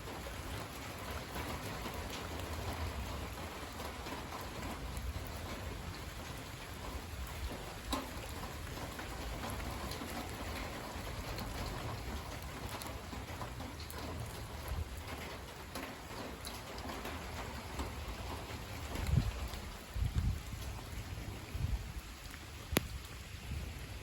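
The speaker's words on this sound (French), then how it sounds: "Ça pleut bien." Steady rain falling in a late-afternoon downpour with lightning nearby, a continuous dense hiss of drops on surfaces, with faint birds and a few louder splashes near the end.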